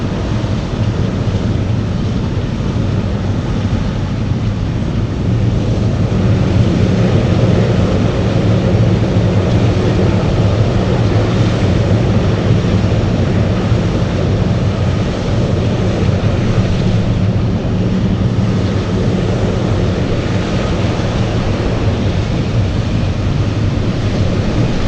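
A FedEx airplane rumbles steadily while moving at Anchorage airport, a continuous, fairly loud engine roar mixed with wind buffeting on the microphone, with no voices.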